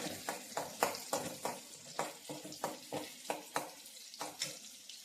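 Garlic cloves sauté in a pan while making coriander thokku, a soft sizzle broken by regular scraping strokes of a spoon or spatula, close and fairly quiet, with no voices.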